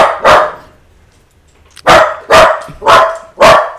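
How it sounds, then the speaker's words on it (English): A dog barks five times, loud and close: one bark, a pause, then four barks in a quick steady rhythm, with no talking over them. "What are you barking at?"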